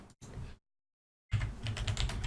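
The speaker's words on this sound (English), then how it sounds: "I'm going to type in" Fast keystrokes clatter on a computer keyboard in two quick bursts, split by a short gap and then a longer silence, close and fairly quiet, with no talking.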